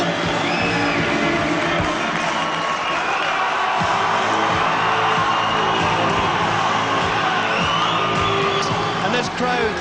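Ice hockey arena crowd at the Centrum Arena on its feet cheering and roaring continuously, a dense, loud wash of whoops and shouts with a commentator's voice talking over it.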